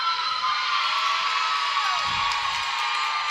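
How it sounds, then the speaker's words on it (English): Spectators at a girls' high school volleyball match cheer and whoop together, a steady crowd roar at moderate distance with bright shouts rising above it and no single voice standing out. "Though the crowd has been somewhat sparse, it's been very raucous and loud"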